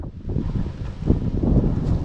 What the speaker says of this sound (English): It is a little bit of a windy day